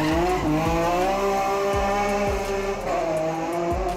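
A BMW E36 with an S54 engine swap revs hard toward 9,000 RPM, its loud, high engine note climbing in repeated surges that drop sharply between shifts, with tire noise close by.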